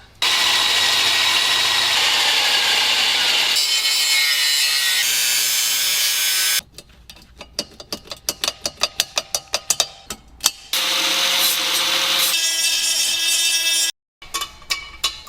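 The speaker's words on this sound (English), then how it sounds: "now that we've got the hole drilled" A loud grinding power drill runs steadily, then stops and starts in rapid bursts, drilling a hole up close through a 4-inch metal exhaust pipe on a turbocharged K24-powered Toyota MR2.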